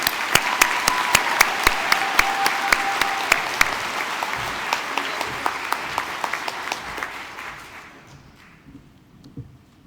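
A graduation crowd applauds the graduates, loud and dense at first with sharp individual claps standing out, then thinning to scattered claps and fading away to near silence.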